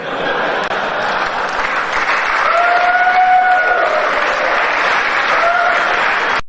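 An audience claps in loud, sustained, even applause, with faint cheering or whistle-like tones rising briefly in the middle before the sound cuts off.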